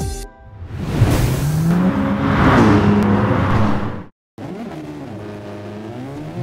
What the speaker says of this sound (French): Deuxième course sprint pour cette manche numéro 3 de ce MFT Sim Racing Championship.